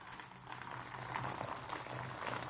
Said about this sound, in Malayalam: നല്ല തിളച്ച വെള്ളം നികക്കെ ഒഴിച്ചു കൊടുക്കുകയാണ്.